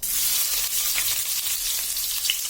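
Crushed onion fries in hot oil with popped mustard seeds for a tomato pepper rasam. The sizzle is close and steady, with light crackles throughout.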